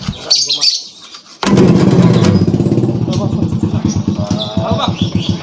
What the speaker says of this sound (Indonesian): motor mendingan lu matiin